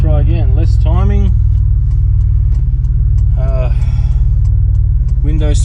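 Turbocharged VG30 engine in a Nissan Navara on a drive, a steady low rumble under the cabin throughout, with people talking over it.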